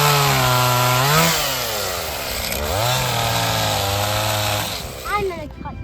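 A chainsaw cuts firewood from a tree on a farm, its engine droning steadily with a pitch that dips and rises as the load changes, while people talk over it close by.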